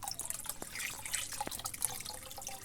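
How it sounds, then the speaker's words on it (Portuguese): Water is poured into a container of potassium sulfate fertilizer powder to dissolve it, with close splashing, gurgling and dripping that comes in uneven bursts and a few sharp drip clicks. "a gente já enche de água de novo"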